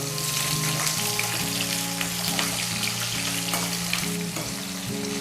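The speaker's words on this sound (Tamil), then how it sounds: "வெங்காயம் பூண்டு வந்து நல்லா வதங்கி வந்துருச்சு" Onion and garlic sauté in a pan after cumin, making a steady, dense sizzle with small crackles. A stepping tonal melody plays in the background throughout.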